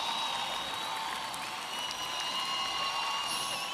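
Crowd applause with some cheering for a drag performer and her dance troupe at a drag gala in Gran Canaria, a steady dense wash of clapping heard from a distance, continuous throughout.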